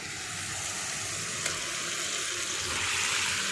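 Marinated jackfruit biryani mixture with mint and tomato paste sizzles in hot oil, a steady broad hiss of frying holding even throughout with no voices.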